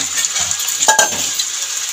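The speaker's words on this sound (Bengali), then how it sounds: "এবার পেঁয়াজ আর মাংসটা দিয়ে দিলাম মশলার মধ্যে" Onion and chicken fry in a spice masala with a close, steady sizzle, broken midway by a brief metallic clatter of a utensil against the pan.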